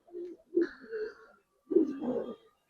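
A Giribaz pigeon coos close to the mic in two distinct bursts, each a few rolling throaty phrases, separated by a short pause against an otherwise quiet background.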